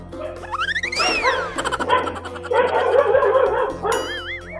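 A dog barks and yips repeatedly at a man climbing over a fence, loud and close, with bouncy cartoonish sound effects and music mixed in alongside the barking.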